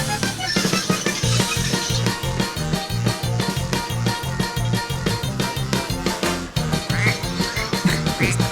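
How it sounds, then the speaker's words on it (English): A brassy polka song plays with steady oom-pah horn beats and a bouncy rhythm, with a cartoon duck quack sound effect dropped into the busy, loud music. "There's the quack and all the horns and stuff."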